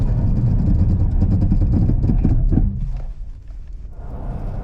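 A 2023 Chevrolet Trax crossover during a braking test: steady loud road and engine roar that cuts off partway through as the car stops, leaving a quieter low rumble of the idling vehicle.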